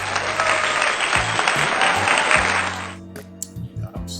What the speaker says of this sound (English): Hand clap for y'all.